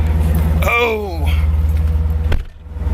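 A car's engine turns over and keeps idling after being brought to life with a jump start, a steady rumbling drone running throughout with a brief exclaiming voice and a sharp clank near the end.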